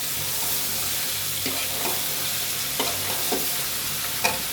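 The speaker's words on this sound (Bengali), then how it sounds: "ভাত দেওয়া পুঁই শাক বাগার দিতেছি।" Malabar spinach with potato fries in a pan with a loud, continuous sizzle, broken by several scraping stirs of a spatula at irregular intervals.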